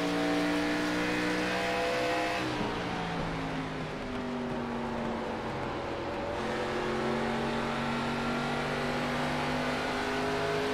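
Race cars roar at Phoenix Raceway, a loud, continuous engine drone with rising and falling pitch as cars accelerate and pass, filling the whole clip with no pauses.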